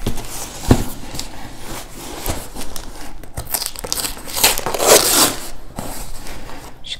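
Close crinkling, scraping and tearing noises come in irregular bursts, like tape being pulled and cardboard flaps worked open by hand on a taped package of wax products.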